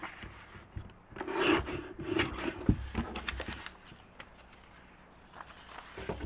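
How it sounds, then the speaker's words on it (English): Scissors cut through manila folder pieces in soft, uneven snips and rasping paper rubs, close and quiet, with pauses between bursts and no talking. "So we're now going to cut these 2 pieces on the marks that I made."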